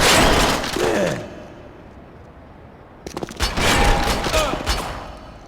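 Shotgun blasts in the Perfect Dark Zero video game, two loud bursts of gunfire with rattling debris, separated by a quieter gap, close and punchy.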